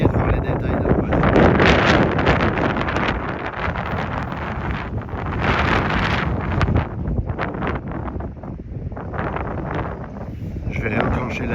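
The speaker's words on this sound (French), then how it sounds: "Vous entendez les rafales, il n'y a rien qui bouge." Strong wind gusts buffet the microphone outdoors, a continuous loud rumbling roar that swells and eases throughout, with a voice speaking faintly beneath it.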